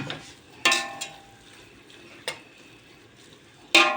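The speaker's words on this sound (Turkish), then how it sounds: "güzelce kavuruyoruz ıspanağını." Spinach roots being sautéed in a pot, with a few sharp stirring scrapes and utensil knocks against the pot over a low, quiet background sizzle.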